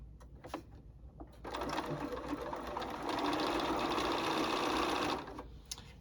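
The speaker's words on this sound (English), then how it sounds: "We're going to stitch right on the line, exactly on that line" A domestic sewing machine stitches a quilt block along a marked diagonal line, its steady mechanical whir running for several seconds at close range with a brief start and a longer continuous run, then stopping.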